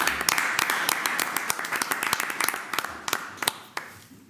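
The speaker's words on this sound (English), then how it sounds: "So a round of applause for Thomas Soteros" Modest applause from a small group at a college board of trustees meeting, quick scattered claps that are fairly close and gradually thin out and fade toward the end.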